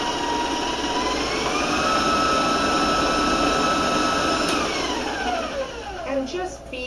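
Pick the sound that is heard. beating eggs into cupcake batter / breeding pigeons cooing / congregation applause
beating eggs into cupcake batter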